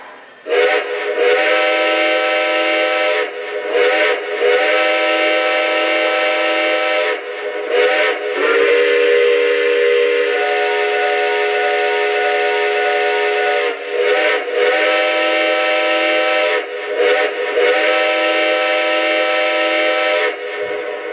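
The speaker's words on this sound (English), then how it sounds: "let's hear the whistle, and while I'm playing the whistle" A Lionel Southern Pacific 4-8-8-2 AC-12 Cab Forward model steam locomotive whistle blows in long chord-like blasts, shifting between tones with brief gaps, loud and close throughout.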